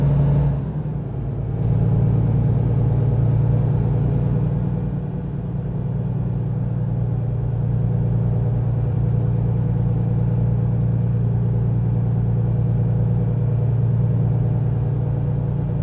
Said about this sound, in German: Wir genießen einfach mal ein bisschen das Soundprofil des Trucks.